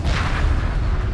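Heavy space-warship cannon fire from Homeworld 2 destroyers, a dense continuous rumble of booming shots blending into a loud, steady barrage with no clear gaps between blasts.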